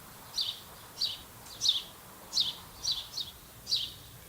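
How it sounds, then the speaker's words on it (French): Several bird chirps in trees in a town, about seven short high calls spaced roughly half a second apart, fairly faint against a quiet background. "dans ces arbres, vous les entendez, il y a plein d'oiseaux"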